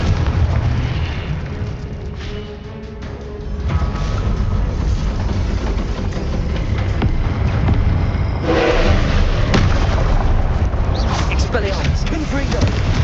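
Expelliarmus and Confringo spell blasts in the video game Hogwarts Legacy, booming impacts and rumbling bursts, a brief lull, then a heavier surge of explosive noise near the end.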